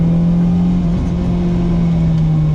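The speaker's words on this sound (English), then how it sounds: "again revving it out" A BMW E30 M3 engine revs hard and loud up close, a steady strained drone holding high with a brief dip partway through, and no talk.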